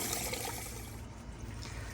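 Water splashes and trickles steadily from a hose while plants are watered outdoors on a hot day, a continuous, fairly quiet rushing sound with no talk.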